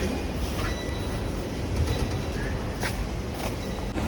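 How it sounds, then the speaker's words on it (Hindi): Inside a moving Delhi Metro train, a constant low rumble and rush of the carriage carry through, with a few faint squeaks and rattles rising over the steady noise. "सो गाइस, वापस मेट्रो के अंदर।"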